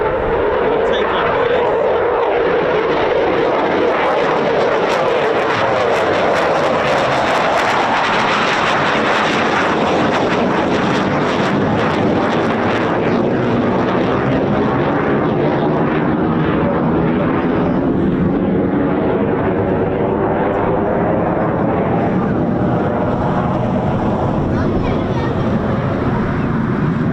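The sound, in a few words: Eurofighter Typhoon jet taking off with reheat on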